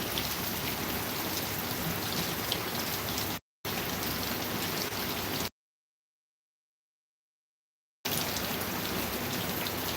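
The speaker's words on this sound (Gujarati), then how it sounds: "વરસાદ બહુ આવે" Heavy rain pours steadily in a dense hiss, broken by two abrupt silent gaps.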